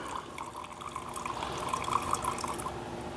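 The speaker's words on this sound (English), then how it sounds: "Once this drains, we're going to drop this float bowl down next" Gasoline drains out of a Simplicity snowblower carburetor float bowl in a steady, close trickle with faint splashing, heard alone without talk.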